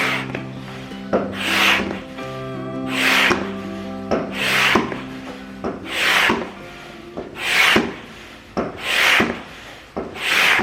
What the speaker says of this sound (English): I'm pumping much slower now.